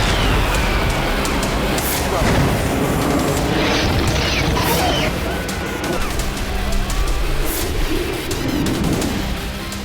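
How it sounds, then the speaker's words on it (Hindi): Heavy, rumbling booms from 2000-kilogram bombs roll out repeatedly over Lebanon, like distant blasts. A loud, dense, chaotic roar sits underneath, with sharp cracks scattered throughout. "दो 2000 किलो के बम से जो विस्फोट हो रहे हैं"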